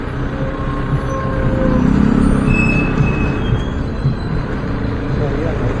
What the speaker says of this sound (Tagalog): Tapos may bus pang malaki.